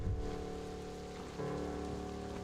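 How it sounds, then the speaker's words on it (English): Steady rain falls in a continuous, even hiss against surfaces, with soft tonal music sitting underneath throughout. "David, it's raining."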